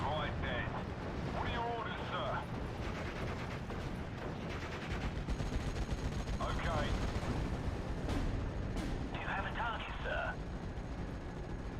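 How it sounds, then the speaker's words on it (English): Pak 38 anti-tank guns firing in a Steel Division: Normandy 44 battle at Pegasus Bridge, with sharp reports and clattering gunfire scattered through dense, continuous combat noise, several bursts standing out over a loud battlefield din, with a voice talking. "I've got to try and fire ahead of these Pack 38s."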